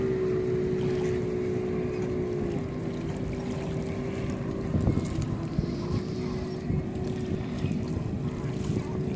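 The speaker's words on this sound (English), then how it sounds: "I'm watching this dude do his flyboard thing." Flyboard water jet at Parkland Beach, a continuous roaring engine-and-spray drone heard from a distance with wind buffeting the microphone, its pitch shifting slightly partway through.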